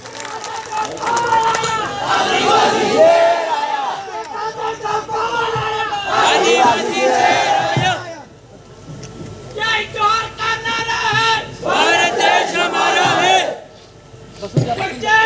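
A large outdoor rally crowd welcoming the speaker with loud cheering, chanting and applause in repeated surges, breaking off briefly twice before rising again.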